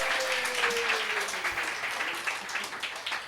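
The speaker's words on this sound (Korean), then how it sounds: "박수!" A church congregation applauding during a Sunday service, a dense wash of clapping from many hands that stays fairly even and then tapers slightly, with a voice speaking over the start.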